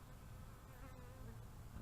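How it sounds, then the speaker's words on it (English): Bees swarming around a top bar hive in July make a steady, dense buzzing drone, with no pauses, close by and moderately quiet throughout. "Every time I come out here, there's more and more bees"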